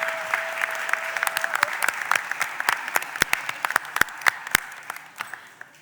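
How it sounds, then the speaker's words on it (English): Round of applause from people gathered in a Philadelphia city council chamber during a stated meeting, a dense patter of clapping that holds steady for a few seconds and then thins out. "can we give all the women in chamber a round of applause?"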